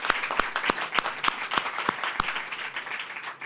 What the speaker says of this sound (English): Another round of applause to Patti and to Bloomberg Philanthropies